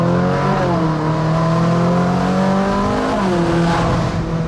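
Koenigsegg Jesko Absolut in stock form with valve opener fitted, engine roaring loudly and continuously up close as it revs through a downshift, pitch climbing then dropping sharply before rising again.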